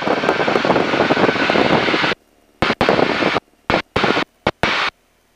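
A light aircraft engine drones loudly in flight during an aerobatics session. The roar holds steady at first, then cuts in and out in several abrupt short bursts separated by silence.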